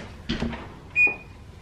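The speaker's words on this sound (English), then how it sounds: "I actually need to turn on the oven first." A kitchen oven being switched on, heard as a short click followed by a single bright electronic beep, with faint cupboard-like knocks just before in a quiet room.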